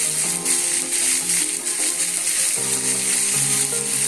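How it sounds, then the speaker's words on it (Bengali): Yardlong beans frying in a pan, a steady close sizzle with light clicking and scraping throughout, loud and continuous with no talk. "এবার এটাকেও একটু ভেজে নেবো বরবটিটাকে"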